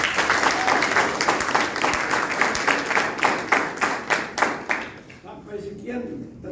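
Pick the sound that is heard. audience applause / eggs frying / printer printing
audience applause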